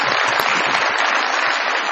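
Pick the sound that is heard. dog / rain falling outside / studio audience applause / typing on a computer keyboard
studio audience applause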